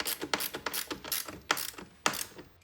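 Ratcheting clicks from tightening the clamp bolt on a Ciro passenger phone mount for a Harley-Davidson touring motorcycle, a run of sharp close mechanical clicks in uneven bursts, with no talking.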